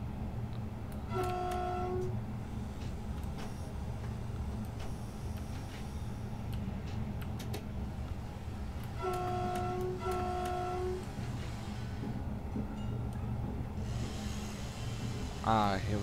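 Train Simulator 2019 regional train on the RB36 line sounds its horn in two short bursts, one early and a longer double blast later, over a steady low rumble of the running train.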